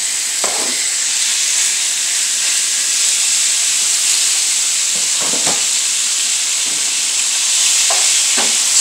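Meat sizzles in a skillet with a steady, loud hiss of frying fat, broken by a few soft scraping stirs and clinks; no voices.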